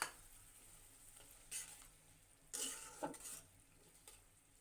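Dried loitta (Bombay duck) fish goes into spiced oil in a pan and is stirred, giving a few soft, scattered scrapes and clinks over a faint, quiet sizzle.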